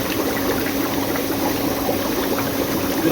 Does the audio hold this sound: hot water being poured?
yes